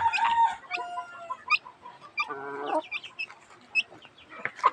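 Purebred Basilan chickens cluck and squawk close by in a series of irregular, sharp calls, with one longer harsh vocal burst in the middle, and no talking.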